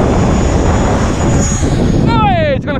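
An FMS Scorpion 70mm 6S EDF model jet roars loudly and close with a steady ducted-fan whoosh, then a falling whistling tone near the end as the jet is caught by wind before crashing.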